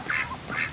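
Ducks in a pen give two quick nasal quacks, close and moderately loud, over a faint background.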